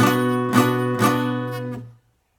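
A single strummed acoustic guitar barre chord rings out full and bright, with a couple of light re-strums before it fades to silence.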